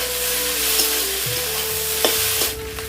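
Boiled potatoes and spice masala being sautéed and stirred in a pan, a steady close sizzle running throughout with a few scraping clinks of the spatula against the pan.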